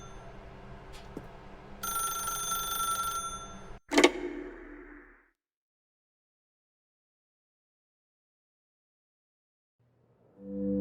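A telephone bell rings in The Stanley Parable: Ultra Deluxe, a sustained bright ring cut off by a sharp clack, then fading into silence, with another soft tone at the very end.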